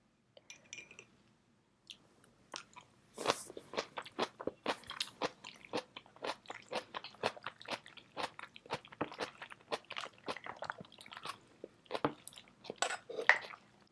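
Close, crisp crunching bites of kimchi eaten alongside cold soybean noodles, a rapid run of sharp chewing crunches following a few faint utensil clinks, intimate and quiet with no talking.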